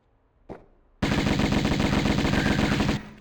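Rapid automatic gunfire from weapons in the video game Tomb Raider, fighting mummies inside a pyramid: a single shot, then a loud sustained burst of fast, evenly spaced rounds lasting about two seconds before stopping abruptly.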